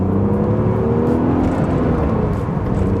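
The engine of a BMW Z3 with a 5-speed manual gearbox runs as a loud, steady, close drone with a continuous rumbling hum and no voices.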